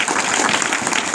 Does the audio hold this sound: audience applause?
yes